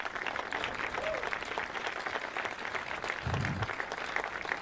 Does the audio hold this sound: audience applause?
yes